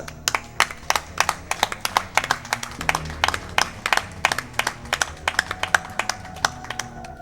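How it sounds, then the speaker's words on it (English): Audience applause at a speedrunning event, heard as sparse, uneven individual hand claps rather than a dense roar, moderately close, with no talk over it. "Let's give them a round of applause for that."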